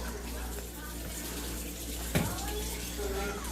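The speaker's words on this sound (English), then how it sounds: "let mommy wash your hands" A tap runs steadily at a kitchen sink while a parent washes a young child's hands, the water hissing at moderate level with a brief louder splash partway through and faint background murmur.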